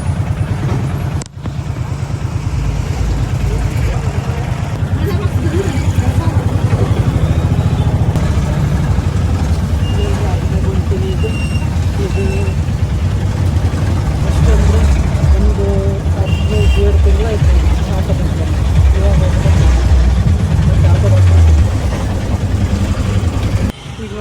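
An auto rickshaw's engine idles as the vehicle pulls up and stops, a steady close, low rumble running throughout with voices in the background.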